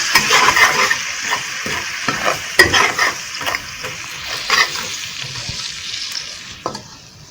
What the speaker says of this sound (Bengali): এবার আমি মিক্সড ডাল বাটাটা দিয়ে দিলাম।